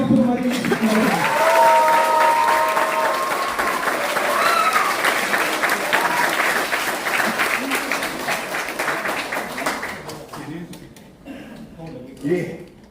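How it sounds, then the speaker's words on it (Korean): An audience applauds to welcome a former Democratic Party leader at a lecture in Busan, sustained dense clapping that gradually thins and fades toward the end, with an announcer's voice over the start. "다시 한번 뜨거운 박수로 맞이해주십니다."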